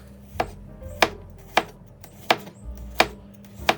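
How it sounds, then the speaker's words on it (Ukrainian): A knife slices through garlic on a cutting board, seven sharp taps at a slow, uneven rhythm, close and clear. "Чесник також нарізаю невеликими тоненькими слайсами."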